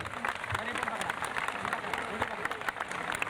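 Protesters at Azad Maidan, Mumbai, clap their hands together in a busy crowd, fast uneven applause mixed with voices talking over it.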